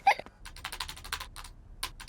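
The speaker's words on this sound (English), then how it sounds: "Peppa and George love to watch Mummy work on the computer." Cartoon keyboard typing: a quick run of light, crisp key clicks in short bursts with brief pauses, preceded by a small vocal squeak, close and fairly quiet.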